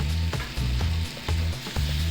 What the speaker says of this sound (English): All right, get the nice saute going on there.